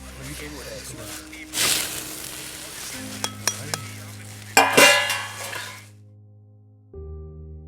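Rice and water being stirred in a pot over an open fire on a Himalayan peak camp at Khaparchula, with faint sizzling, scraping and clattering of the pot and spoon under close conversation.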